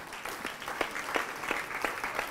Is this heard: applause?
yes